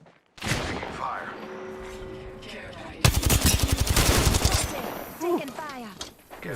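Rapid automatic gunfire in the video game Apex Legends, a dense burst of loud, close shots in a steady rattling rhythm, preceded and followed by game voice lines and talk.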